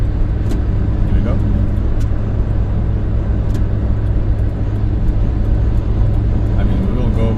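Citroën XM car cruising on a motorway, a steady loud rumble of engine, tyre and wind noise filling the cabin throughout, with faint clicks on top.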